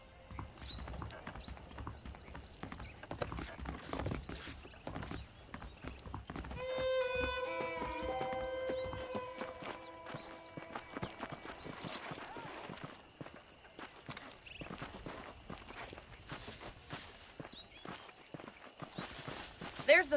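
Horse hooves clip-clop steadily on dirt in the Western video game Red Dead Redemption, a near walking rhythm with a brief whinny and jingling tack midway, while someone talks over it.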